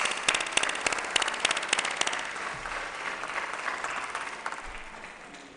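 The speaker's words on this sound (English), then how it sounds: "give them a round of applause" An audience at an MLK birthday celebration at a temple claps in a dense burst of applause, sharp and loud at first, then thinning and tapering off toward the end.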